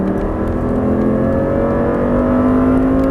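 An Audi R8 engine roars at full throttle on track, a loud sustained note climbing steadily in pitch from start to finish.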